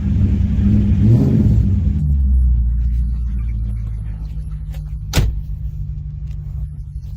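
A 1990 BMW E30 340i Touring with a swapped 4.4L V8 holds a steady, deep rumbling idle-like drone at about 2,000 RPM, loud and close, with a brief sharp click midway and no talking.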